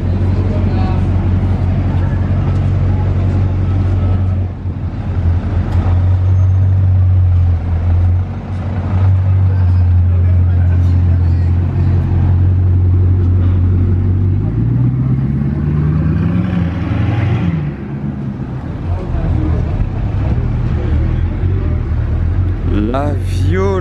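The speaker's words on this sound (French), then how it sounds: "Chiron Sport, ça fait quand même un meilleur bruit qu'une normale." A Bugatti Chiron Sport's engine rumbles loud and close. It swells into deep revving pulls, and the pitch sweeps upward as it accelerates near the end. A person talks over part of it.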